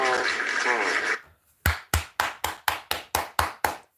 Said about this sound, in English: We need to clap for them.